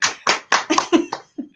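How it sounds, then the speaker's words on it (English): A small handful of people clap for a guest on a talk show, about seven distinct claps in an uneven rhythm, close and sharp, with a brief gap before a final softer clap and a bit of laughter. "A little round of applause"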